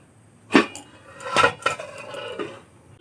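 A lid set onto a pot of egg omelet and potato curry, with a sharp metallic clank followed by a few lighter rattles and scrapes of metal cookware, close by with no talking.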